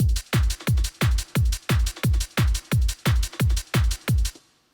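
The B variation of a Euro trance style on a Yamaha PSR SX900 keyboard pounds out a steady bass drum with extra percussion layered on top, roughly thirteen even, punchy beats before it cuts off and rings away.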